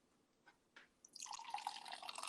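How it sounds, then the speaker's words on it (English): Cider is poured into a glass: two faint taps, then a steady, close, fizzy splashing stream that fills the rest of the moment. "so let's pour and then see what it looks like"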